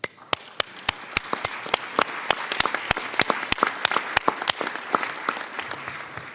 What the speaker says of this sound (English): I ask everyone to give our panelists and those who bear witness a round of applause